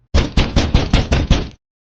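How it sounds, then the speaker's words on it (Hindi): Seven evenly spaced, fairly loud knocks on wood ring out in a quick steady rhythm, each a short dull thud, then silence. "जैसे कोई लकड़ी पर हल्की दस्तक दे रहा हो"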